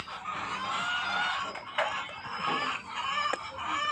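Layer hens in a bamboo cage cluck and chatter continuously. Several birds overlap at close range in a busy, steady flock murmur, with occasional sharper calls.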